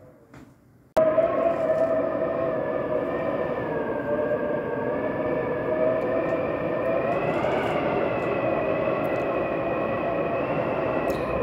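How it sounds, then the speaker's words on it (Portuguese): Strong, cold night wind coming through a slightly opened window makes a steady, loud whooshing roar with a faint whistling tone that holds for about ten seconds after a quiet start. "Esse é o barulho do vento, a noite inteira."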